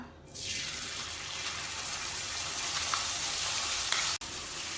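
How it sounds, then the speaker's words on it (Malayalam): Paneer hitting hot ghee in a pan sets off a loud, steady sizzle that rises quickly and holds, broken by a brief clatter near the end. "നെയ്യ് ചൂടാവുമ്പോൾ ഇതിലേക്ക് എടുത്തു വെച്ച പനീർ ഇടാം."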